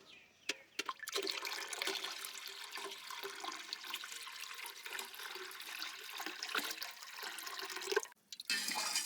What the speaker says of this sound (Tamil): ரெடி பண்ண எசன்ஸை வந்து இப்போ ஊற்றிக்கலாம்.